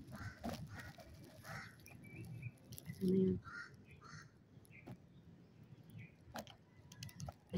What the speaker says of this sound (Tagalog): Ayun oh, ayun ang uwak oh.